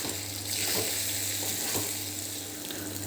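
Spiced stuffed potato curry (bataka ravaiya) sizzles softly in oil in a pan while leftover masala is stirred in, with quiet scraping strokes over a steady low frying hiss and no voices.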